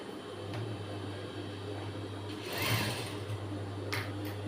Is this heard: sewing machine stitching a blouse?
yes